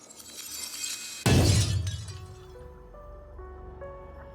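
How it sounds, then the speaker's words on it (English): A sudden loud crystal crack bursts into a shattering crash, followed by a glittering tail of high tinkling shards that thin out and fade over a couple of seconds, heard alone as a fantasy sound effect. "And the crystal begins to crack"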